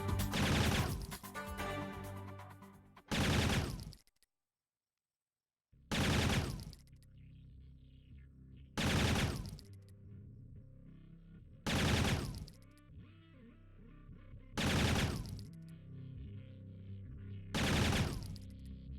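Machine gun fire in the video game Operation Flashpoint, Dynamic Afghanistan, loud bursts repeating about every two to three seconds, seven in all, with a brief full silence early on and a low background rumble between.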